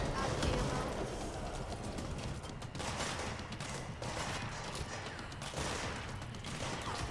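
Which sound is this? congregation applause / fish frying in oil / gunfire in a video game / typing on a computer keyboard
gunfire in a video game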